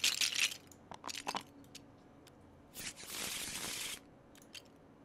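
Dice rattle and clatter as they are shaken in Tabletop Simulator, with sharp bursts of clicks early on and a longer dense rattle near the end, heard alone.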